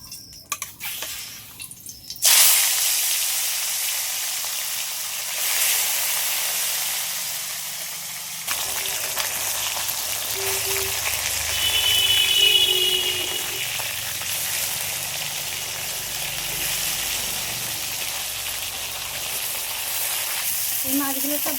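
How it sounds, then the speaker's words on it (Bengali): Bhola fish drop into hot mustard and white oil, setting off a loud, close, continuous sizzle and crackle that starts abruptly and keeps going with shifting intensity. "এবার মাছগুলো সব ভেজে নেব"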